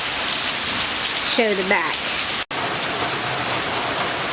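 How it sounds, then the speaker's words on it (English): Steady rain falls across a backyard in Auburn, Georgia, a dense continuous hiss with a voice speaking briefly over it and a short dropout midway. "So you can see it raining."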